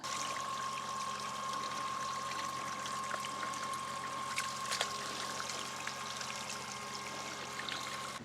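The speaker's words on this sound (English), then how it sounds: "let's go wash these off and keep walking around for a while" Water runs steadily over a pair of waterproof boots as they are rinsed off outdoors, a continuous close hiss and trickle with a faint steady tone and a brief clatter midway.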